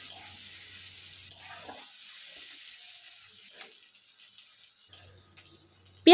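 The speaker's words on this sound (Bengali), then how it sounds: "পেঁয়াজটা লাল লাল করে ভেজে নেব।" Chopped onions with turmeric fry in a pan, giving a faint, steady sizzling hiss that runs throughout before a sudden loud clank at the very end.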